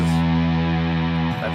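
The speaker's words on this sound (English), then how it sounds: "if you're hearing like any ambience or reverb, the pedal itself actually does have its own reverb section" A sustained, distorted synth tone from a Meris Enzo X synth pedal holds steady with rich harmonics, then shifts briefly near the end with a soft reverberant tail from the pedal's built-in reverb.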